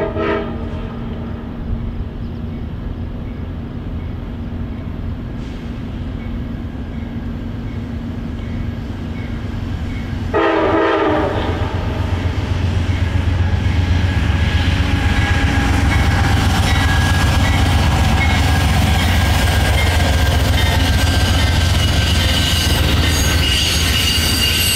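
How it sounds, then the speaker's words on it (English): The westbound Amtrak Wolverine 351 passenger train rounds a curve near a rail yard in Battle Creek, Michigan. Its horn sounds early on, then the train roars past close by for a long, steady stretch with squealing wheels and rolling rail noise. "westbound Wolverine 351 came around the corner"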